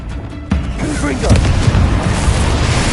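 A fiery Confringo blast spell from Hogwarts Legacy erupts with a sudden booming burst after a quieter lead-in, then rolls on as a loud, sustained explosive rumble with crackling debris and whooshing tones.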